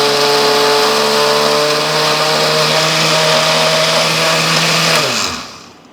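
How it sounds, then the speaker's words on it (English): A blender whirs at high speed through oat pancake batter, a loud, steady, close motor drone that holds for about five seconds before winding down and stopping. "Right now I'll go ahead and blend this one because it's been sitting for a little while."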